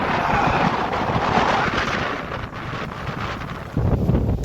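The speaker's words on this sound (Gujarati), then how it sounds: "આ તમે જોઈ શકો છો પવન બહુ જ ખતરનાક ચાલે છે" Heavy, dangerous cyclone wind roars against the microphone over onion fields in a continuous blustery rush, easing slightly before a fresh gust hits near the end.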